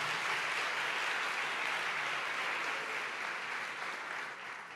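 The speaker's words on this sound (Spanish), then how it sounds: "Si alguien lo cree, den un aplauso al Señor." A church congregation claps together in a steady, fairly faint wash of applause that holds evenly throughout, with no speech over it.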